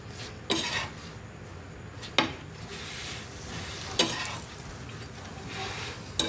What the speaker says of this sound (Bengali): এবার পরোটা ভাজার মতনই তেল দিয়ে, অল্প তেল দিয়ে এটাকে আমি ভেজে নেব